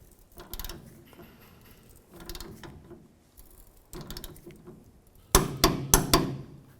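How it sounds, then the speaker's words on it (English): Ratchet clicks from a torque wrench tightening a tailgate hinge bolt on a 2007-2013 Chevy Silverado 1500 come in short bursts, growing louder and sharper toward the end, with no talk. "I'll torque that to 30 foot-pounds"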